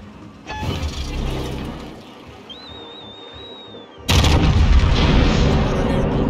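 World of Warships naval guns fire from a battleship, a heavy boom near the start, then a quieter stretch with a whistling tone, then a loud deep salvo rumbling near the end.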